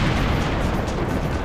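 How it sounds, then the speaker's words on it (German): A cannon fires a cannonball in the shooter game Serious Sam HD: The Second Encounter, producing a dense, loud, sustained booming roar that fills the whole short stretch. "So, Kanonenkugel ist eine gute Idee."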